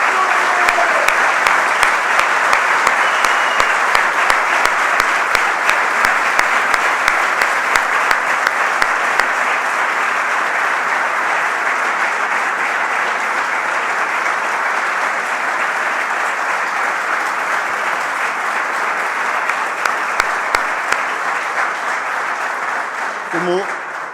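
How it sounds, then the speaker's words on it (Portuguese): An audience at an FC Porto presentation of the sporting directors gives a long round of applause for Zubizarreta and Jorge Costa, a loud, even wash of clapping that holds steady for over twenty seconds. "peço-vos uma grande salva de palmas para Zubizarreta e Jorge Costa"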